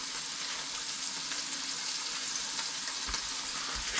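Quiet, steady sizzling of a breaded crappie fillet frying in hot oil, a soft crackling hiss with occasional pops, no talking.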